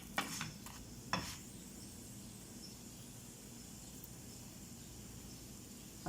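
Pastries frying in oil, a soft steady sizzle running throughout at low level, with a few brief clinks near the start.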